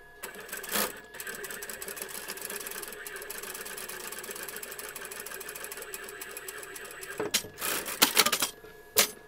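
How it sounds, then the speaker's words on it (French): A domestic sewing machine stitches fabric for a doll's beret, running steadily and close for several seconds, then stopping and restarting in short bursts with clicks near the end. "Vous allez l'unir comme ça. Et vous allez coudre tout simplement."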